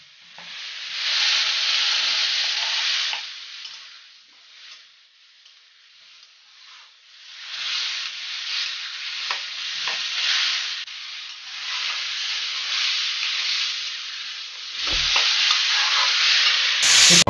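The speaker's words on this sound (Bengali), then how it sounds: "বিরিয়ানির মশলাটা দেওয়া বাকি আছে, দিয়ে এবার কষানো হচ্ছে।" Biryani masala with ginger garlic paste sautés in a pan, a steady loud sizzle and frying hiss with stirring scrapes that swell and dip throughout, no voices.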